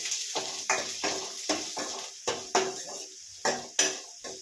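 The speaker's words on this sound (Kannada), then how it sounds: "ಸ್ವಲ್ಪ ಫ್ರೈ ಮಾಡಿಟ್ಕೊಂಡು ಫ್ರೈ ಮಾಡ್ತೀನಿ" Spoon or spatula strikes ring out roughly a dozen times against a pan while mung bean, horse gram and vegetable masala sambar frying continues, each clatter sharp and near with brief sizzling in between.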